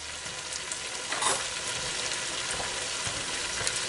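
Chicken pieces go into a hot pot for a stew and set off a loud, continuous sizzle. A brief surge follows early on as they land, then the hiss stays steady with no talking.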